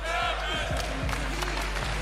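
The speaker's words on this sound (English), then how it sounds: "The crowd chanting for him." A crowd at the Combo Breaker 2025 fighting game tournament chants for a player, a mass of voices rising and falling in the venue with sharp rhythmic thumps and claps punctuating the noise.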